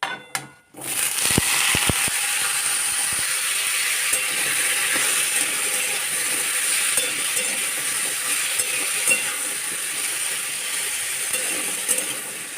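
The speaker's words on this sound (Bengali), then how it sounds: "এরপর আমি কেটে রাখা আলুগুলো কড়াইতে দিয়ে দেবো" Cut potatoes frying in hot oil in a wok with cumin seeds and dried red chillies, a steady broadband sizzle running continuously after a few sharp clatters at the start, with stirring scrapes and no talk.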